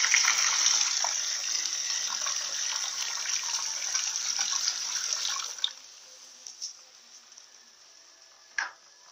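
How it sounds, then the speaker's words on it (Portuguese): Water gushes steadily into a Newmaq twin-tub washing machine, a loud continuous pour lasting about five and a half seconds before stopping, followed by a few faint knocks and a brief splash. "Eu vou botar só um pouquinho de água."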